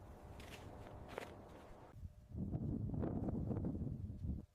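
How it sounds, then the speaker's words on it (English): Footsteps crunching on ice and snow high on Mount Everest, a steady run of close steps that grows louder and denser partway through, set against a constant rush of wind. "Listen, wind, ice, and footsteps."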